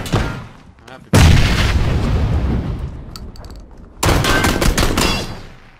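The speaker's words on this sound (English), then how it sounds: "Grenade out." Video-game grenade blast followed by heavy bursts of gunfire, loud and close, with a second surge of shots a few seconds later.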